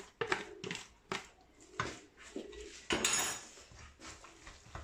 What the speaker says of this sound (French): après avoir égoutté mes vermicelles, donc là, je vais les mélanger à la farce